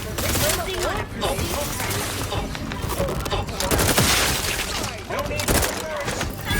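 Gunfire in the video game The Outer Worlds 2, a loud, dense barrage of rapid shots and thuds, continuous throughout with voices talking beneath the fighting.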